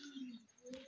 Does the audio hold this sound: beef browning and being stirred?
no